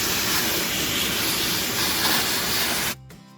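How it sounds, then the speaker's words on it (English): A shop vac sucks debris from a Dyson Ball DC40 Animal vacuum filter, a loud, close, steady roaring hiss that runs for about three seconds and then cuts off abruptly. "Again, using a shop vac, you can use other ways."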